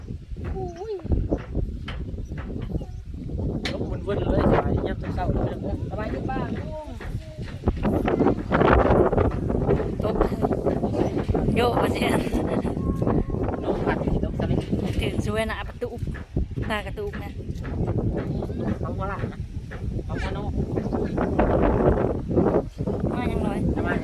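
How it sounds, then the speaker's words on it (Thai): Cold wind gusts and buffets the microphone outdoors at rice paddies where frogs are being dug up, a steady rough rush that persists under almost constant talking. "ลมหนาวพี่น้องวันนี้"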